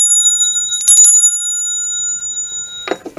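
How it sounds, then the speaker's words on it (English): A small decorative bell, like a bear bell, rings with a bright sustained chime that rings on and fades, then a second quick shake near the end, close and clear. "This one almost looks like a bear bell because it's got a great sound."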